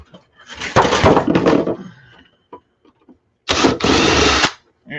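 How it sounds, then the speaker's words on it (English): Two bursts of a power drill whirring at close range while installing a hand scanner time clock, the first longer with a brief stutter, the second steady, separated by quiet clicks and small handling noises. "I need to drill for that one."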